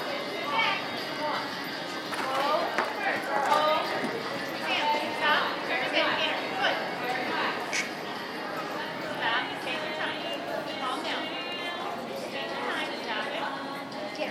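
Horse hooves clip-clop in a steady rhythm as the horse canters around a riding-class arena, with voices talking over the hoofbeats throughout.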